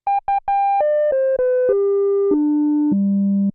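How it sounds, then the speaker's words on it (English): Pure, resonant tones from a Korg Prologue synthesizer's self-oscillating filter step downward in pitch, a few quick stabs then longer held notes sliding lower, clean and loud with no other sound. "I'll be able to play the filter as its own oscillator"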